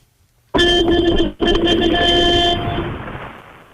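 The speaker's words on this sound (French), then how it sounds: "Fais-nous rêver avec ton klaxon, ami camion." A truck's air horn blasts loudly and close, a sustained harmonic honk with a brief break before a second long blast that fades slowly.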